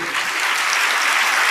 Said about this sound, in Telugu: అర్థమైతే కొట్టు చప్పట్లు